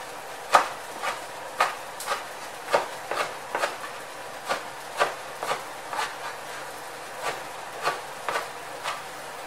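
A knife chops soaked preserved mustard greens into small pieces on a board, about sixteen evenly spaced, crisp strikes in a steady rhythm, close and moderately loud with no talking.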